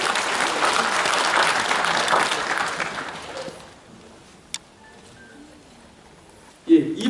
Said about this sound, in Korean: 윤경상님께 큰 박수 한번 부탁드립니다.